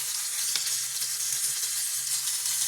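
Turon fries in a pan with a constant, close crackling sizzle of hot oil and a faint scrape of stirring now and then.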